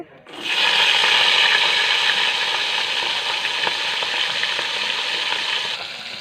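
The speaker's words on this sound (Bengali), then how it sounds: "কড়াইয়ে সর্ষের তেল নিয়ে নিলাম। রুই মাছের মাথাটা ভেজে নেব।" A rohu fish head fries in mustard oil in a wok, bursting into a loud, dense crackling sizzle as it goes in and holding that steady spitting roar, with faint speech underneath.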